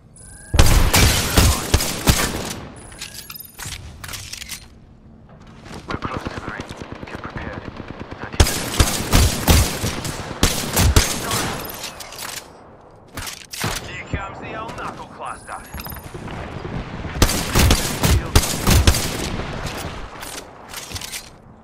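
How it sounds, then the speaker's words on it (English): Repeated explosive bursts from a Knuckle Cluster in the game Apex Legends, loud staccato volleys of rapid blasts in several bursts, with brief quieter gaps between them and occasional speech mixed in. "Knuckle cluster's firing."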